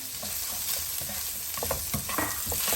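Small chopped onion frying in a pan gives a loud, steady sizzle throughout, with scraping and stirring sounds from a utensil on the pan surface close up.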